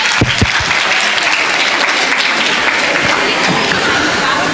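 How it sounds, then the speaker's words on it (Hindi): Loud, dense applause from the crowd at an inter-school dance competition, a continuous roar of clapping that stays close and strong from start to finish. "जोरदार तालियां, जोरदार तालियां।"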